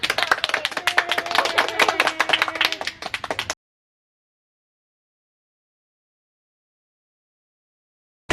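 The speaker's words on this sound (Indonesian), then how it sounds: "Tepuk tangan." Scattered clapping from a small group for about three and a half seconds, uneven and fairly close, followed by silence.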